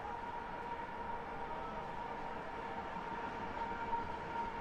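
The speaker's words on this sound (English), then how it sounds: "Apologies for the noise there because of the train." Near a soccer stadium, a passing train gives a steady low rumble and drone that fills the whole stretch, with no one talking.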